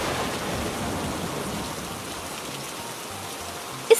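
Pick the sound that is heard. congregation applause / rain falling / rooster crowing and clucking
rain falling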